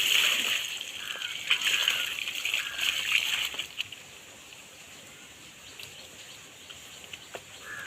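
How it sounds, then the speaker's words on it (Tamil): Water splashing and pouring steadily for a few seconds onto a newly planted mango sapling, then tapering off, with a hiss of outdoor background and faint birds. "இந்த பாருங்கள் தண்ணி ஊற்ற போகிறேன்"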